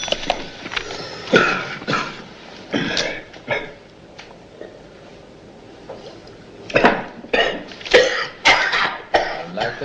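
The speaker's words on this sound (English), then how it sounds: "He's been coughing like that all day." A man coughs in several harsh, rasping bursts, with quieter pauses between fits and clusters of heavy coughs near the end.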